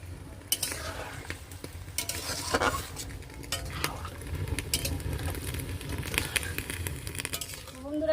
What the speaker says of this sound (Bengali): যতক্ষণ না রসটা গাঢ় হয়ে আসছে ততক্ষণ আমি এরকম জাল দেব আর এইদিকে নাড়বো।